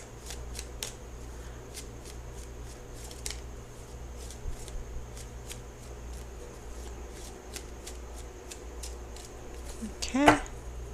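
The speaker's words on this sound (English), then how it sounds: "So I'm going to shuffle for the outcome card." Tarot cards are shuffled by hand in a steady run of crisp riffling flicks, close and fairly quiet, ending in a sharper burst of card noise.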